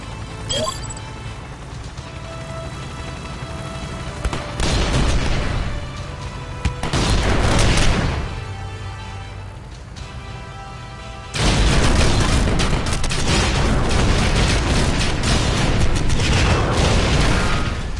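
Heavy booms and bursts of artillery and gunfire erupt in the VR battle game League of War, with loud rumbling blasts in waves separated by quieter stretches carrying faint tones.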